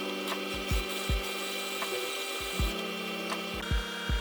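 A constant mechanical hum from a running drill press, punctuated by several short, low thumps at irregular intervals.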